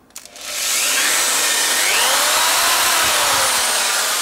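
A power drill bores into the deck of a Kugoo S2 electric scooter, a steady loud whine that starts after a few faint handling clicks and holds continuously, with a slight shift in pitch as the bit works through the material.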